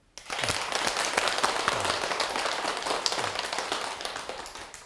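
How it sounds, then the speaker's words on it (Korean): Audience applause at a Buddhist dharma talk during a Buddha's Birthday service, with many people clapping steadily after a brief quiet start and an even crowd texture throughout. "큰 박수 한번 칩시다"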